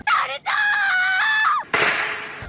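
A shrill anime character scream rings out loud and close, a brief cry followed by a long sustained shriek, then a harsh burst of noise at the end.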